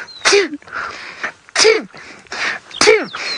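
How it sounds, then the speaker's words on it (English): Three short, explosive alarm snorts from a Thomson's gazelle in the Maasai Mara, spaced about a second apart, each like a stifled sneeze, loud and close against faint background noise. "they've got my favorite alarm snort of all the animals in the Mara"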